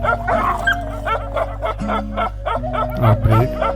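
Puppy of a Himalayan livestock guardian breed barking aggressively in repeated sharp yips and bow-wows with whimpery edges, close and loud, a voice faintly under it.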